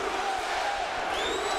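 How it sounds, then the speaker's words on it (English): A boxing arena crowd roars in a dense sustained wash, with rhythmic chanting voices and a rising whistle faintly audible through the din. "the crowd chanting USA"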